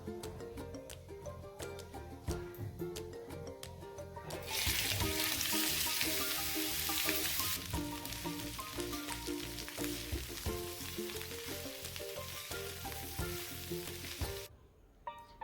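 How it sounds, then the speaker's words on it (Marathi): Sliced onions fry in a little oil on a griddle for dum aloo masala, a loud close sizzle that swells as they hit the pan and runs on with stirring scrapes before stopping. "आपण आता तव्यावर थोडंसं तेल घालून हे कांदे फ्राय करून घेणार आहोत"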